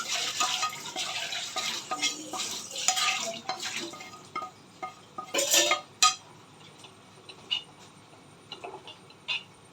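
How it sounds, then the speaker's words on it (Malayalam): A clay pot is set down in a small home kitchen for prawn curry, with clinks and knocks of pots and utensils, light scraping and stirring, and several sharper clatters partway through, all fairly close with no talking. "നമുക്ക് മൺകലം ചെമ്മീൻ പറ്റിച്ച മൺകലം വയ്ക്കാം"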